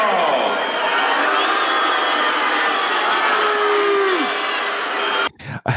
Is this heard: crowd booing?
yes